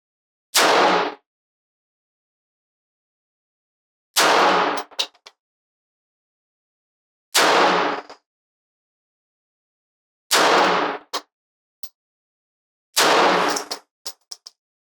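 Pistol fired with iron sights at range targets, five single loud shots spaced about three seconds apart, each a sharp close crack with a short echo tail and faint clinks after.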